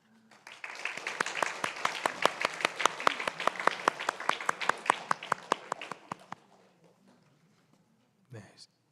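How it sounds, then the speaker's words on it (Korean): A church congregation at a Sunday service applauds to welcome a visiting family, a burst of clapping that builds, holds for several seconds and then fades, followed by a brief murmur. "잠깐 일어나셔서 인사하실 때 박수로 환영하도록 하겠습니다."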